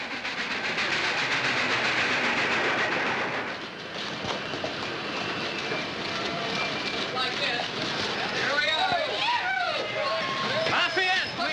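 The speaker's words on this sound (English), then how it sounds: "The train's late." A train rolls in as a loud, steady rumble with rail clatter, the noise dipping briefly then continuing under overlapping voices of men calling out on a wartime army station platform.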